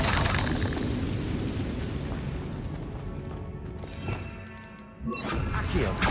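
In Hogwarts Legacy, a Confringo spell detonates with loud crashing, booming blasts over continuous game noise, dipping briefly before a fresh sharp impact near the end.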